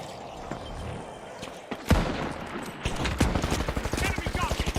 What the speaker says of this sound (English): There's someone using a sniper rifle.